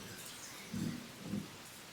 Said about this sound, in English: I'm just sitting here relaxing and enjoying this rain.